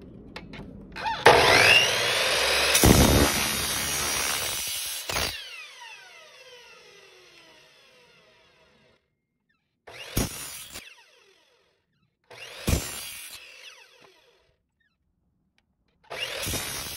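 Power saw cutting kerfs into aluminum angle, leaving material at the bottom: a long loud cutting burst that fades out, then three shorter cuts spaced a couple of seconds apart, with no talk.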